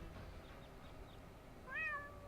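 A kitty stuck up a tree gives one clear, rising meow near the end, loud and close over a steady low background hum.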